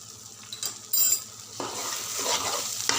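A spoon scrapes and stirs a paneer masala curry in a frying pan, with soft clinks and a scraping sweep over a faint oily sizzle, close up and without talk.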